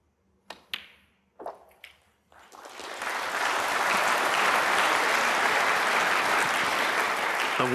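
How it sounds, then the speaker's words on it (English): A healthy crowd applauds at a Players Championship snooker quarter-final in Telford. A few isolated claps come first, then a loud, sustained ovation swells up and holds steady to the end. "A well-earned round of applause from a very 62. healthy crowd this afternoon."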